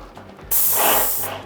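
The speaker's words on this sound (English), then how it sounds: "Now I'm ready to do my test patterns on some cardboard." Wagner Control 150M airless paint sprayer spraying test patterns onto cardboard: a sudden loud, steady hiss of spray that starts abruptly and holds for under a second before cutting off.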